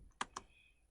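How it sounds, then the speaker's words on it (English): Two sharp keystrokes on a computer keyboard, close and fairly quiet, spaced apart in an otherwise near-silent room, with one more click at the very end. "So I'm typing ping"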